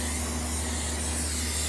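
A steady, continuous hiss from an aerosol spray of lubricant onto a drum, close and fairly loud, over a low mechanical hum.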